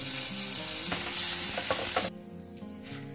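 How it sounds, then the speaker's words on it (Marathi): Red chillies, curry leaves and coriander sizzle loudly in hot oil, with light stirring clicks. The frying drops abruptly to a quieter hiss partway through. "त्याचबरोबर 2-3 लाल मिरच्या मी घेतलेल्या आहेत, या आपण तेलात परतवून घेऊ छान।"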